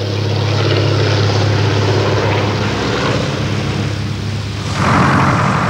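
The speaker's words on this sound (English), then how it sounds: "Another de Havilland aeroplane, the Dragon Rapide, begins its display." A de Havilland Dragon Rapide biplane flying a display at the Shuttleworth Collection, with a loud, continuous propeller-engine drone that shifts in tone as the aircraft passes close by.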